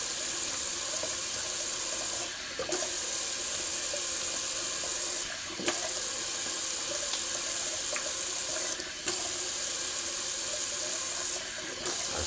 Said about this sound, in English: just a cold water rinse.